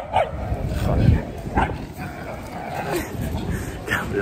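A dog barks in short, sharp bursts outdoors in the mountains, with people talking close by over and between the barks.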